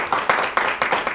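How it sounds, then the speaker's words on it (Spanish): Hand clapping from a congregation during a Sunday church service, a brief burst of several rhythmic claps, moderately loud and close. "Dale un aplauso al Señor, pero que llegue hasta el trono de la gracia"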